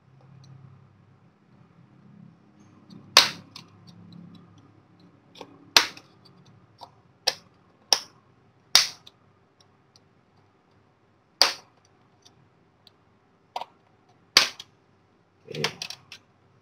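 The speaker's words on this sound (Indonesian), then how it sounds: "Kita congkel lagi bagian bawahnya juga, kita congkel seperti tadi." Sharp plastic pops and clicks sound as the lower edge of a Dell Vostro 3458 laptop's LCD bezel is pried loose, clips releasing at uneven intervals. The snaps are close and distinct against near silence, with a faint rustle early on.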